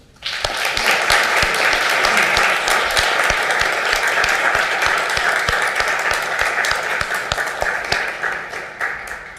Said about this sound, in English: after we all give her a round of applause